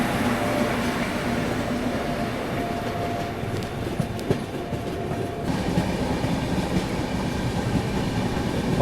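A train runs along the line by Bondamunda railway station in Odisha, a steady close rumble with rhythmic wheel clatter and a few sharp clicks over the rails, constant throughout.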